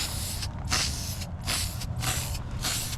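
Spray paint can applying coats to car parts for a 1954 Chevrolet Bel Air, four close, even hissing bursts with brief gaps between them and no talking.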